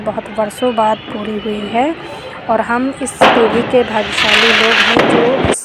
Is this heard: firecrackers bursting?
yes